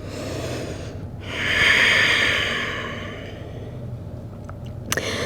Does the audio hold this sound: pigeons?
no